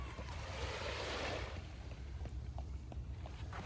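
Waves wash onto the beach at Stanley Park in Vancouver on a cold early morning: one broad surf rush swells and fades, leaving a low ambient rumble with faint scattered sounds.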